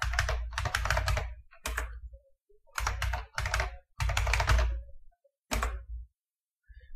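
Typing on a computer keyboard during a Void Linux install, keys clacking in quick bursts separated by short pauses, close and clear with no talking.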